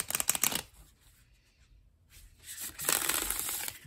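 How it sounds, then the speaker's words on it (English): Two bursts of crisp riffle shuffling of a deck of cards, close up, separated by a quiet pause. "listening to the sound of the cards"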